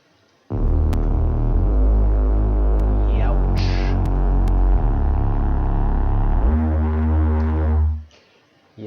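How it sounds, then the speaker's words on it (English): Trillion synth bass patch called Bang Street: a loud, dense, throbbing low bass tone with a pulsing buzz, held steadily for several seconds before changing pitch and cutting off. "in this case I used a synth patch called Bang Street."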